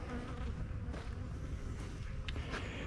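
Bees buzz densely around beehives during a hive inspection, a steady, close swarm drone that holds throughout with no break.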